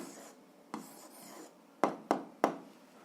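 Pen strokes on paper scratch softly and close by while a math answer is written, with several sharp tapping marks in a quiet room.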